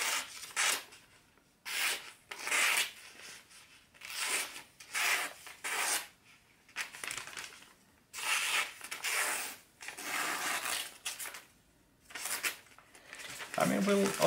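A WE Knife Cybernetic blade slices through thin newspaper in a series of quick, crisp tearing strokes, each a short papery rasp separated by brief pauses, fairly close and moderately quiet.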